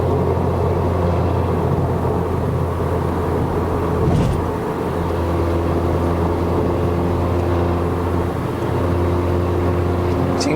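A 2014-era Mercedes-Benz A180 W176 hatchback on a Malaysian test drive, its engine droning steadily with constant tyre and road roar from inside the cabin, loud and continuous with a faint bump midway.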